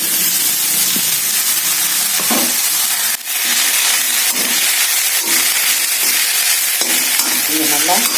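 Finely chopped vallarai spinach greens frying in a pan, a loud, continuous sizzle and hiss with occasional scraping stirs and soft bursts of crackle, heard close up.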